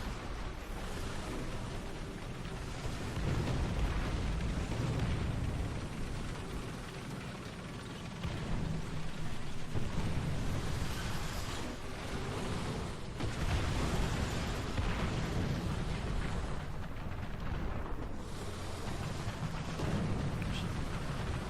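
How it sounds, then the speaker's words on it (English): Anti-aircraft tank gunfire in War Thunder, heard as a dense, continuous wash of rumbling bursts and crackle running throughout, loud and sustained with no talk. "Looks like we've got some kind of anti-aircraft tank shooting down the road there"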